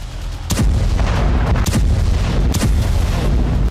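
Explosions in Iranian cities: a series of heavy booms, roughly four distinct blasts spaced about a second apart, each rising out of a loud, continuous low rumble.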